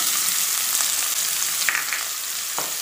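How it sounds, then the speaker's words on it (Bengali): Chopped onions frying with spices for spicy masala eggplant, a dense bright sizzle holding steady with a few faint stirring clinks, close and without voices. "এখন আমি এর ভিতরে দিয়ে দেব দুটো পেঁয়াজ আমি কুচিয়ে নিয়েছি"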